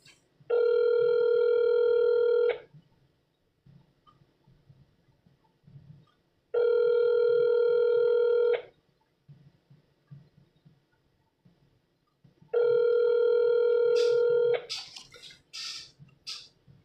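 A phone line's ringback tone sounds three times, each burst about two seconds long and separated by pauses, with faint background noise between them and a short clatter at the end.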